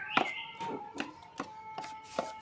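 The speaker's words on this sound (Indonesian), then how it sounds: "Oke, kita aduk sampai adonan ini lembut, halus, dan elastis ya." Sticky martabak dough is stirred and kneaded by hand, giving about five soft, moist slaps or thumps at an even pace, heard up close with no talking.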